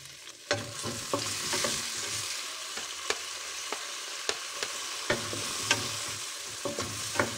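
White onions sauté in butter in a pan for spaghetti with vegetables: a steady close sizzle punctuated by sharp, regular spatula taps and scrapes against the pan.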